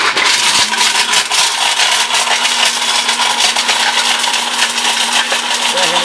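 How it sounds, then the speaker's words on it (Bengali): A commercial stainless steel robot blender runs at full power, a loud, dense, unbroken whirring roar with rattling grind that holds steady from start to finish, close up and with no talk over it. "ওইভাবে ইউজ করলে এই ব্লেন্ডার পঞ্চাশ বছর আপনি কিছু করতে পারবেন হবে না কারণ এটা কমার্শিয়াল ব্লেন্ডার এই যে দেই বিসমিল্লা"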